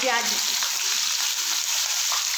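Onions fry in hot mustard oil alongside whole red chilies, giving a steady, close sizzle with a bright hiss that holds throughout.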